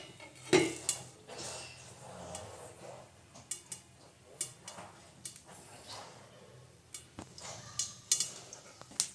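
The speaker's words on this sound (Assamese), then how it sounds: "এতিয়া ৰাই ফুটিছে" Mustard seeds pop inside a covered pan on a stove, giving sporadic sharp ticks and light clinks against the lid at an irregular, quiet rhythm, with no voices.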